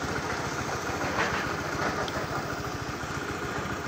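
Honda Air Blade scooter engine running weak and hesitating on the throttle, with a faulty O2 sensor, giving a steady, close, rapid mechanical putter throughout with no voices.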